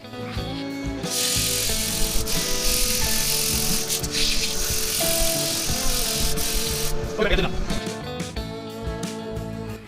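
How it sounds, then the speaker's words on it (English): A steady, dense abrasive whir of sandpaper against a wooden spindle spinning on a lathe, continuous and fairly loud, with a brief scraping change near the end. "Okay, time for some sanding."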